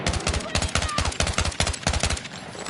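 Battlefield 6 gunfire: rapid automatic bursts crack out loud and close in a tight, rattling rhythm for nearly three seconds, with short gaps between strings of shots.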